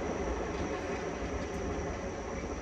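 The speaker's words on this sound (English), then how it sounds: "the train's gone by" A train passing by outdoors, heard as a steady, dense rumble and roar that holds at an even level throughout, with no voices over it.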